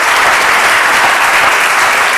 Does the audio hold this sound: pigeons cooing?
no